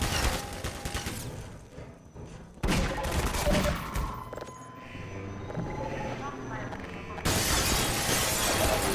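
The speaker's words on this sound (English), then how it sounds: "There's mounted guns in the tower," Mounted tower guns in the video game Half-Life 2 fire in heavy, loud bursts of rapid gunfire. The shots come in sustained volleys that stop and restart, with crashing impacts between them.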